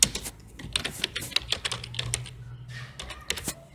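Fingers tap rapidly on a computer keyboard in an irregular stream of crisp, close keystrokes, with no talking over them.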